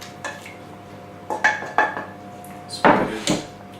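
Pork pie meat dropped into an oiled baking pan, several soft thuds and clatters against the metal with a couple of louder knocks near the end, close and alone.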